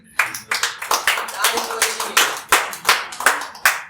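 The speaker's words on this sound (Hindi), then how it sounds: "तो राहत साहब के लिए एक बार तालियां।" Clapping for a poet at a poetry recitation event, a few loud, close, slightly uneven hand claps in a steady rhythm, about three per second.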